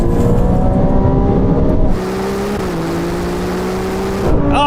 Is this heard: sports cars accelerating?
yes